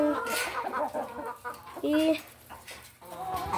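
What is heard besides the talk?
chickens clucking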